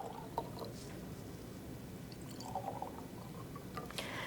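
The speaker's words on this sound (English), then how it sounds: "We'll go ahead and throw in some water." Water is poured into a twine-wrapped glass, a faint liquid trickle and a few drips over quiet room background, with no talking.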